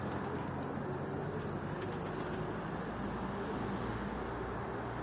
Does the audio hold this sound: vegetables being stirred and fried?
no